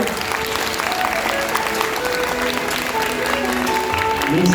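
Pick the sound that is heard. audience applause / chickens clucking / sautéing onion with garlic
audience applause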